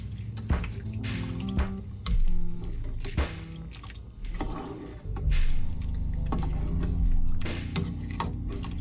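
A spoon stirring homemade beef vegetable soup with tomatoes and tomato sauce in a pot, giving wet sloshing swishes and clinks in irregular bursts, close and moderately loud.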